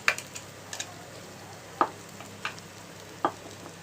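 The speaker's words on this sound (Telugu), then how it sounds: "ఇలాగ మొత్తాన్ని రైస్ అంతా వేసి కలుపుకోవడమేను" A spatula stirs cooked rice through a frying pan while making meal maker rice, giving a few quiet, sparse scraping taps spaced apart against a low background.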